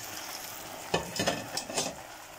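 Asparagus and mushroom risotto in a pan, with a few short sizzling and stirring bursts as ingredients are added, close by and moderately quiet, with no talk.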